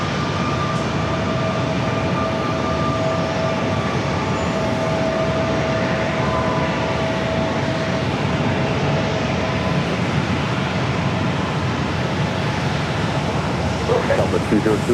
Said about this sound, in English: Next arrival is Southwest Airlines flight 2548, coming up from Oakland, a 737